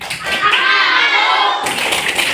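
Children in an Indonesian classroom clap along to a rhythmic chant, young voices and hand claps mixing together in a lively, close burst that runs through the whole moment.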